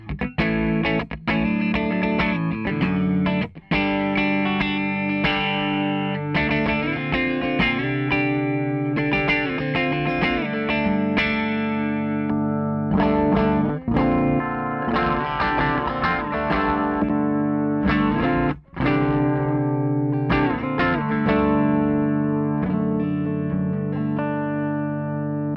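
Electric guitar through a Cali 76 compressor pedal plays continuously for the whole stretch with an even, squeezed level: strummed chords and single notes with almost no gaps.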